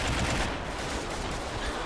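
Dense, continuous battlefield din of gunfire and artillery blasts from a trench battle in the Army Men game, loud and unbroken with overlapping shots and booms and no voices.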